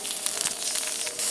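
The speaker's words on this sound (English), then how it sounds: "A little bit of steam and water coming up through the safety valve now" Steam and water hiss steadily from the safety valve of a puffer steam engine boiler on its first run, a continuous close-up hiss.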